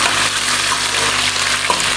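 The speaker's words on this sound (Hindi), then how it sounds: "अब इसको मैं हिलाती हूँ।" Taro root pieces fry in a pan with a steady, dense sizzle that runs the whole time, stirred with occasional soft scraping; loud and close, with no voices.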